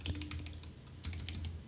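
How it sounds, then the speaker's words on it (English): Someone types quickly on a computer keyboard, a quiet close run of light irregular key clicks with a short pause in the middle and no talking. "So let's type down, make me a table"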